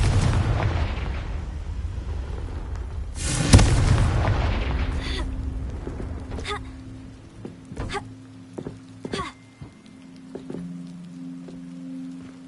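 A spell blast in Hogwarts Legacy on PS5: one heavy booming explosion with a rumbling tail, then scattered lighter pops and impacts as debris settles, with game ambience fading toward quiet.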